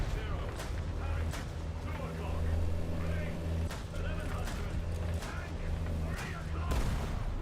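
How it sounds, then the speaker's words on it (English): Gunfire and heavy artillery-like blasts from a tank battle video game, several sharp shots over a steady rumbling engine drone, with speech present. "Oh, they're shooting at me."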